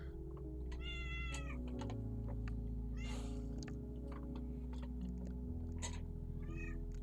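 A cat meows several times at the end of a home work session, the calls rising and falling over a steady low hum, with no one speaking.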